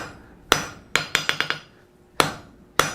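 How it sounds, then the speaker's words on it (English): Hammer blows forging a cube of metal stock half on, half off the far edge of an anvil: sharp ringing strikes, one, then a quick run of five, then two more spaced apart, with quiet gaps between. "Hammer that down."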